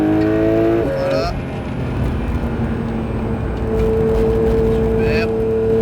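A Porsche 911 992 GT3 is driven hard on the Géoparc circuit at Saint-Dié-des-Vosges, with a loud, sustained engine note that drops on a gear change and then climbs again. An instructor talks over the engine.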